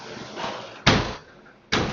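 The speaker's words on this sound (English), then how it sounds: "Shopping trolleys outside." Shopping trolleys rattle outside in two sudden, loud bursts, each a broad clattering rumble. The second burst cuts in near the end after a quieter stretch of murmuring background.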